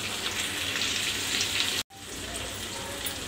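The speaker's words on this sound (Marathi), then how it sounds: "हे बघा आता आपल्या चिकनला छान उकळी आली रशाच्या" Chicken curry gravy bubbles at a full boil in a pot, a constant close, busy seething hiss broken by one short cut to silence.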